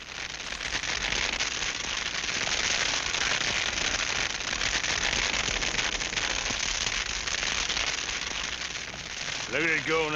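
A brush fire burns near a wagon, giving a dense, loud, continuous crackle and rush that stays steady throughout, with a voice briefly heard at the end.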